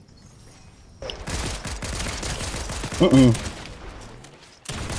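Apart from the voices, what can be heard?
shotgun gunfire in a video game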